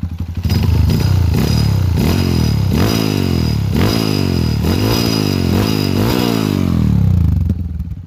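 Loud, close revving of a Honda CRF bore-up motorcycle with a GP7 Seca exhaust, the throttle blipped in a steady series of roaring surges about once a second, heard near the engine, then easing off at the end.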